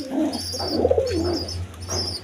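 A pair of pigeons, kept with their chicks, gives a close, clear rolling coo that swells and falls over about two seconds above a low steady hum.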